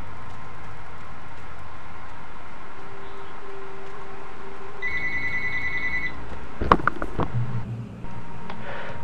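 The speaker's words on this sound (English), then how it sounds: "The phone rang" A telephone rings in short bursts of electronic trilling partway through, fairly clear over a steady hiss and faint game ambience, followed by a couple of sharp knocks or handling sounds.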